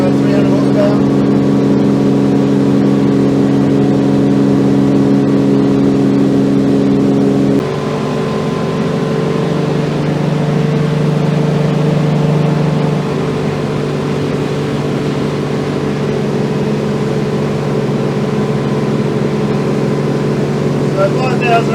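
Twin 300 horsepower outboard engines drive a Seaking Hunter 720 boat at cruising speed, a loud, steady, close engine drone with a slight drop in pitch partway through, and a voice speaks over it.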